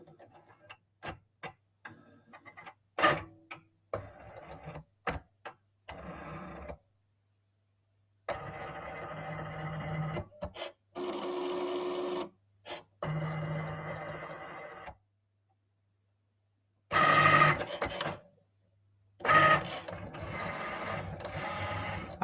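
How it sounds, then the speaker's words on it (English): A Cricut cutting machine moves its carriage around a printed sheet, scanning to check alignment and calibration: intermittent mechanical whirring and ticking bursts with short pauses, close and fairly quiet, with no talking. "moving its way around the print to make sure that the machine is aligned with the actual print"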